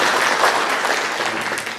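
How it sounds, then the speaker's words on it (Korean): A church congregation applauding during a Sunday service as newcomers are welcomed, a loud, continuous burst of many hands clapping close by that fades slightly toward the end. "박수를 하겠습니다."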